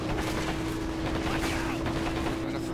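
Gunfire in Men of War Assault Squad 2 crackles in a dense, continuous battle din under a steady hum, with someone talking over it.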